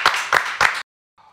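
Three quick bursts of clapping from a small studio audience at an eFootball show, each a short sharp smattering, followed by silence and a faint murmur.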